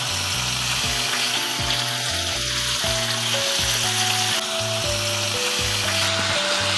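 Slices of beef brisket (chadolbaegi) sizzle steadily in a hot pan, a constant crackling hiss throughout, with background music playing underneath.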